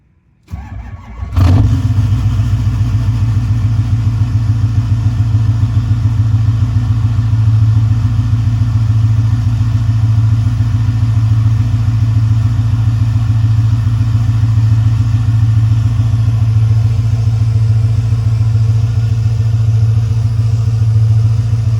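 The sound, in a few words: old truck engine cold starting and idling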